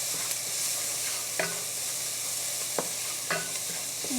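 Vegetables sizzle steadily in a pan while a utensil stirs them, giving a few sharp scrapes and taps spaced about a second apart over the continuous frying hiss.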